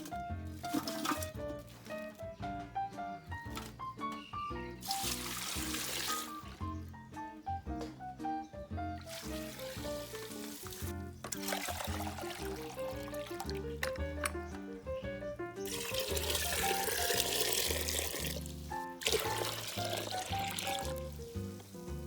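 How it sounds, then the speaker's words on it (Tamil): Water is poured into a clay pot holding small pieces of neem bark, in several separate splashing bursts over steady background music. "நல்லா ஃபுல்லாக தண்ணியை ஊற்றிட்டு"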